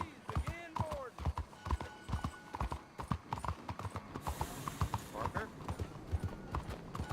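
Horse hooves clip-clop steadily in Red Dead Redemption 2, a fast rhythmic gallop close by, with a brief whinny early on and voices talking over the hoofbeats throughout.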